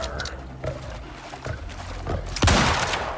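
Gunfire in the Prometheus open-world video game: a few scattered sharp shots followed by a louder burst near the end, over a busy background of game ambience.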